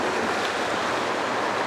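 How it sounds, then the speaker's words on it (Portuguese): Floodwater on a city street in Vitória surges in waves during a night of heavy rain, giving a steady, dense wash of rushing water that fills the whole clip without pause. "Ondas em plena pista."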